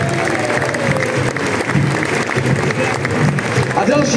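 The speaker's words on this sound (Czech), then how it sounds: "Velký potlesk pro Martina Ticháčka" Sustained applause from a large crowd at an AC Sparta Praha trophy ceremony greets goalkeeper Martin Ticháček, a thick continuous clatter of clapping with crowd noise and voices underneath.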